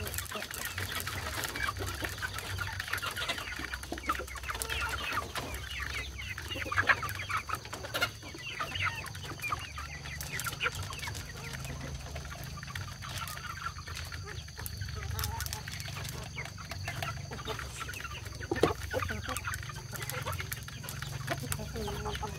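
KUB chickens kept in a backyard pen cluck and call softly and continuously over a low steady hum, with occasional louder squawks.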